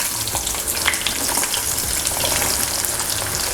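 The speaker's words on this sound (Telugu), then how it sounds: "ఆనియన్స్, పచ్చిమిర్చి వేసుకున్న తర్వాత కూడా ఒకసారి కలుపుకుందాము." Onions and green chillies sizzle steadily in hot oil with tempering seeds for a brinjal and chana dal curry, a continuous close frying crackle with occasional stirring scrapes and no talking.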